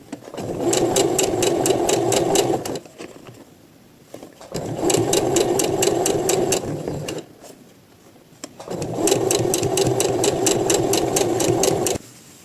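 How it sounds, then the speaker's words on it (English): Three steady runs of a sewing machine stitching blouse shoulders, each a loud, even mechanical whir with rapid needle ticks, separated by brief quiet pauses. "And I am going to sew first here the shoulders."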